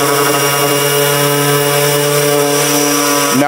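A Bosch 18V 125mm random orbital sander runs with a vacuum attached, giving a loud, steady motor whine with a strong harmonic hum, close and continuous, shifting briefly in pitch near the end.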